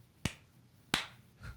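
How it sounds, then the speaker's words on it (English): During a podcast interview recording, a quick hand clap is made to sync the audio: two sharp, isolated smacks about 0.7 seconds apart in a quiet room, followed by a softer third sound. "let's just do a quick clap before we begin again"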